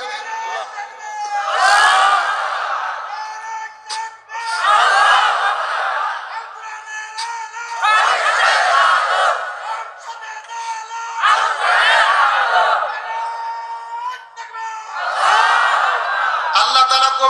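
A crowd at an outdoor Bangla waz religious gathering chants the takbir in repeated loud collective bursts. Each swell rises and then falls back, the chants coming roughly every three to four seconds.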